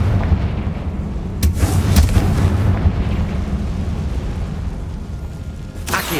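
A fiery Confringo spell blast in Hogwarts Legacy, heard as a loud booming burst over a dense rumbling game backdrop, with a second sharp blast near the end.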